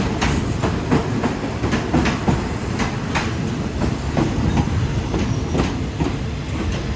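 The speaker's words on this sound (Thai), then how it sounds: "รถด่วนขบวนที่ 85 ถึงสุราษฎร์ธานีครับ" Express train No. 85 to Surat Thani, hauled by a Hitachi locomotive with Japanese JR sleeper cars, rolls past close by with loud continuous rumble and a regular clickety-clack of wheels over rail joints.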